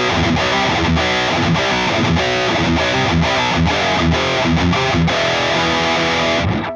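Electric guitar, a Jackson KV Pro Dave Mustaine, driven through a metal pedal into a Marshall JCM800 2210 amp, a dense, loud, saturated riff of chugging chords and palm-muted hits that cuts off at the end, no voices.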